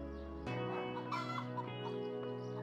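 A cartoon chicken in a children's math animation gives a run of short clucks over a steady musical backing, with a bright accent where the bird hops into a frame.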